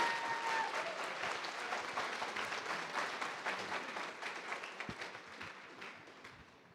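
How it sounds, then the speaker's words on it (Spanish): A church congregation in Mexico City applauds steadily, dense clapping that starts loud and slowly tapers off over several seconds. "dele un aplauso fuerte al Señor"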